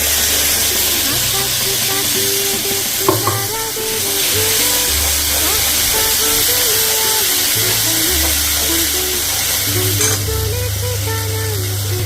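Ground mustard spice paste fries in a pan for a Bengali mustard fish curry, giving a steady, close sizzle that runs unbroken for about twelve seconds over a tonal, melodic background.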